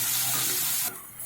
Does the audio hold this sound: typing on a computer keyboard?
no